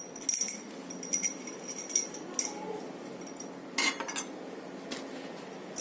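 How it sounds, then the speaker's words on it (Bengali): Metal puja utensils and dishes clink and clatter as they are washed, bursts of bright jangling and knocking spaced irregularly over a quiet background. "আর এইটাতে তো ঠাকুরকে গঙ্গা জল ইউজ করি পুজোর জন্য, এটাও ধুয়ে নিচ্ছি"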